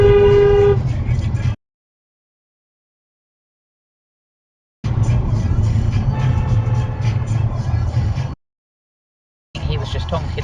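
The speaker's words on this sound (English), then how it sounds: "He was just honking at this Audi as well" A loud, sustained car horn blares at the start in Nottingham, UK traffic, then traffic noise and voices continue in sections broken by abrupt silences.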